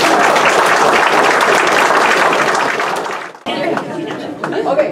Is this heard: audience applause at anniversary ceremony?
yes